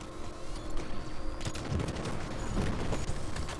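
Dense gunfire from a competitive Halo match, with a sniper rifle and automatic weapons in play. Rapid, overlapping shots and bursts pile up into a continuous fusillade that stays moderately loud throughout.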